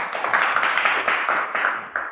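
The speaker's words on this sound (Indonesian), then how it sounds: "Tepuk tangan." A classroom of students claps together in a short, loud, fairly rhythmic burst lasting about two seconds.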